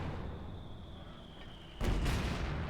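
Mortar and Sturm Panzer fire in Company of Heroes 2: a low, quiet battlefield rumble gives way to a sudden heavy blast near the end, followed by a sustained booming roar.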